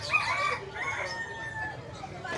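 A rooster crows at a busy pet market, its drawn-out call ringing over a steady murmur of nearby voices and crowd noise.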